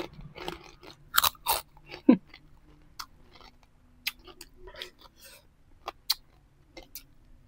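Crisp crunching bites and chewing of crunchy pork rinds (chicharon) close to the ear, irregular bursts of crackle separated by short pauses, no talking.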